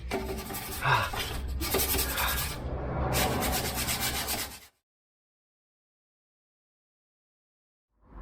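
Steady abrasive rubbing and scraping as the cab bodywork of a 1970s Bedford truck is sanded continues for several seconds before stopping abruptly into silence.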